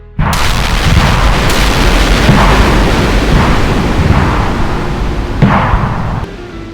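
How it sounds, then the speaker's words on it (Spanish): Loud, continuous barrage of gunfire and explosions in a Spanish western radio drama featuring Django and dynamite, a dense roar with sharper bursts throughout that cuts off abruptly near the end, with no voices over it. "Uno a uno, los hombres de Souro cayeron en una lluvia de balas y explosiones"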